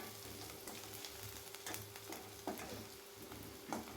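Onions sautéing in a pan until golden for a tomato-onion chutney, a soft steady sizzle with occasional stirring clinks, faint and close.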